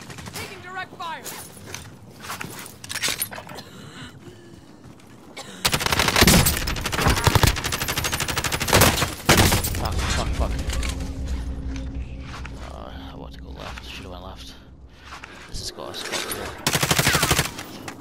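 Rapid bursts of automatic gunfire in the battle royale shooter Warzone crackle in dense, loud volleys with mechanical clicks between them, while players call out over the action.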